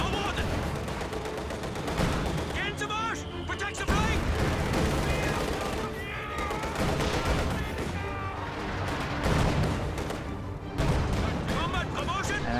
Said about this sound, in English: Raketenwerfer connects, but infantry support gun shot and Panzerschreck shot do not.